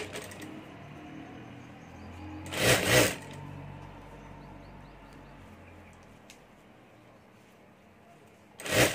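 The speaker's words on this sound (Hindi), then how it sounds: "तो यहाँ हमें एक बार मोड़कर ऊपर सिलाई कर देता हूँ।" Fabric for a small doll dress being folded and stitched on a sewing machine, two short loud bursts of whirring needle work separated by quiet handling noises, with no talking.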